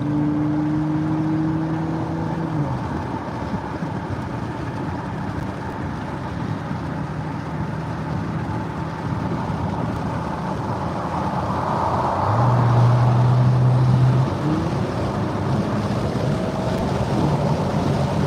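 A car engine idles and runs after a spark plug change, a steady low rumble with wind buffeting over it, rising slightly in level partway through; no talking is heard.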